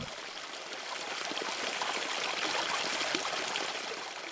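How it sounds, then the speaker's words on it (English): Freshwater spring stream in a forest in Japan: steady, soft trickling and babbling water, continuous and even throughout, with no voices. "We arrived at a lovely freshwater spring."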